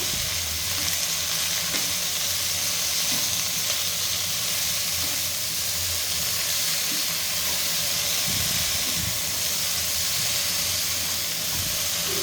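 Broccoli fry being stirred in a pan with salt and turmeric, a steady close sizzle with soft scraping of the spoon throughout, continuous and alone without talk.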